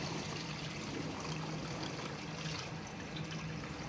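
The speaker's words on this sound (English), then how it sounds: "Water's coming in" Storm surge water from Hurricane Katrina in Gulfport, Mississippi pours into a building through an air conditioning vent, a steady close rushing and trickling wash that holds unbroken from start to end.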